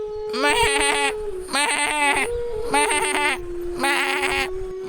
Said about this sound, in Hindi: तभी बकरी मैं करते हुए चंदन को जगाती है।